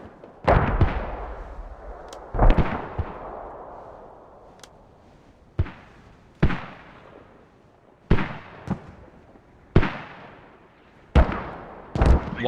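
Artillery shells crash down in the Squad video game on the Chora map: about eight loud, booming explosions arrive at irregular intervals, each with a long rumbling decay.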